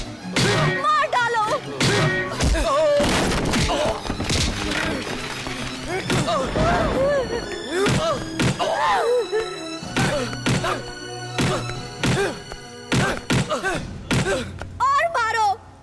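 Heavy blows and thuds land one after another in a fight scene from a South Indian movie, mixed with shouting voices, groans and dramatic music, loud and chaotic throughout.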